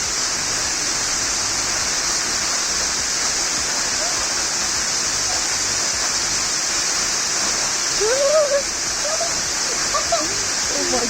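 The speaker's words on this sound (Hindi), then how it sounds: "ये रही वाटरफॉल जो सीधा रोड पे गिर रही है।" Waterfall in the Himachal hills pouring straight onto a road, a steady loud broadband roar of falling water, with a few faint voices briefly audible near the end.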